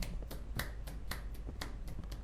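Sharp, evenly spaced claps or snaps repeat in a quick steady rhythm, about eight in two seconds, crisp and close.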